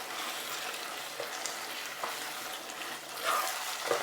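Mince beef fries in a pan over medium heat, a soft steady sizzle with occasional light scrapes as the meat is mixed, fairly quiet and close, no talking.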